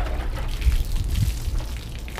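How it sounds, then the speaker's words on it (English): A car-washing applicator being soaked in water during a wash-and-wheels detailing session, giving short, close sloshing and gurgling liquid sounds with no talk. "you do want to go ahead and soak it in water."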